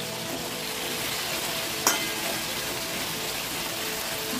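Potatoes sizzle steadily in a hot pan for a jackfruit chicken curry, a soft even frying hiss throughout with one brief clink near the middle and no talking.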